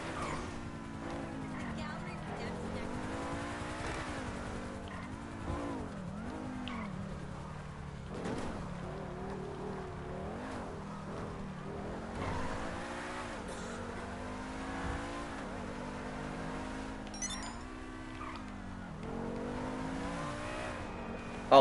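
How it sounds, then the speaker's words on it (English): An Ubermacht SC1 supercar driving in GTA Online, its engine droning steadily with rising and falling pitch as it accelerates and shifts, continuous and moderately loud throughout. "what's the name of this car? Ubermacht SCI Super."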